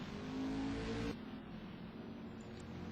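A racing car engine rises in a loud, strained pitch, then drops suddenly and carries on at a lower, steadier drone as the car picks up speed again.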